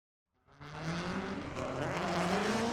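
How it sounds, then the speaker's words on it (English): A drift car's engine roars up suddenly and builds to a loud, sustained high-revving drone with squealing tires during a tire warm-up, close by at Formula Drift Japan qualifying. "Doing his little tire warm-up as he comes by us here"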